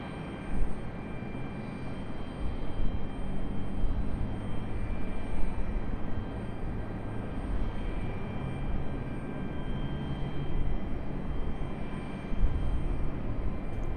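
A Frontier airliner at Raleigh Durham airport spins up its engines, a steady low roar with a faint high whine held for the whole span and swelling slightly at moments, heard from a distance.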